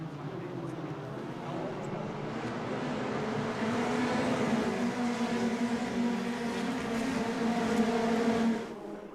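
Formula 1 race cars on a track, a sustained high engine whine swelling as cars pass, continuous and fairly distant, cutting off near the end.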